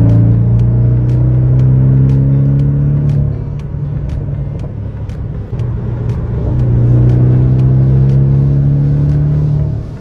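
A Porsche Boxster GTS turbo engine drones loudly and close, the revs dipping and rising again, with a rapid series of sharp exhaust pops crackling over the steady engine note.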